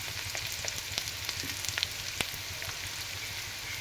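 Oil frying in a pan gives a steady, even sizzle with scattered tiny crackles and pops throughout, close and unbroken.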